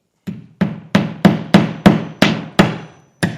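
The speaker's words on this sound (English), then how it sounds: "It really helps if the hammer hits the nail." Hammer blows drive a nail into a wall while hanging artwork, about eight sharp, loud wooden strikes in a steady rhythm with a short pause before the last hit.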